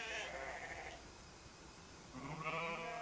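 Sheep on a railway line bleat a couple of times, short wavering cries with a quiet gap between them, moderately close with no speech.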